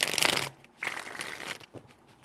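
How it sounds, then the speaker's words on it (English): A deck of tarot cards shuffled by hand in two quick, close riffling bursts, crisp and papery, followed by a faint tap. "3 shuffles."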